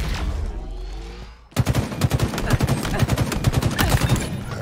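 Rapid automatic gunfire in Halo Infinite bursts in after a quieter opening, a loud, close, sustained stream of shots that keeps going to the end.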